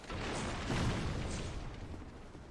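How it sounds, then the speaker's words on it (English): A firebomb explodes in a video game, a broad rumbling boom that rises quickly and holds dense and loud before slowly fading over a couple of seconds. "Hit me with a firebomb over here, Gimp."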